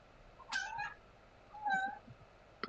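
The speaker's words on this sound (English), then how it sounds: "Kitty's meowing." A house cat meows twice at moderate distance, with a short pause between the calls and a quiet room behind them.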